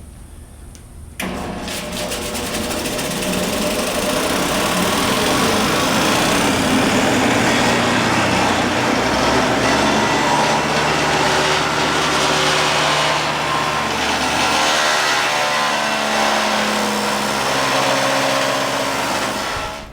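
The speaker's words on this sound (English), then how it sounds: "I'm going to move over here to the disc sander and sand down to the line" A disc sander runs loud and steady as wood is sanded down to a marked line, its motor starting up with a sudden rise and then holding a constant high whir with grinding friction layered over it.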